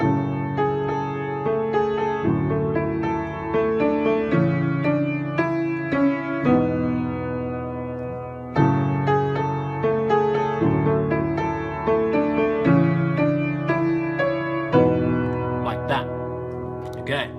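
A piano plays a simple repeating melody over steady low chords, clear and sustained, with no voices.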